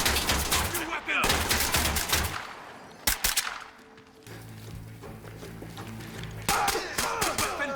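Gunfire from a magazine-fed shotgun in the tactical shooter Ready or Not: loud, sharp blasts in irregular clusters with short pauses between them, plus softer in-game clatter.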